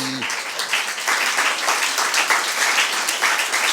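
Steady applause from a theater audience at a farce performance, dense clapping that starts after a brief voiced note and continues evenly at close range.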